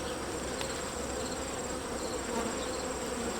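Agitated honeybees swarm around frames pulled from a hive, their dense, continuous buzzing drone holding steady with a faint high whine, close and unbroken, with no voices.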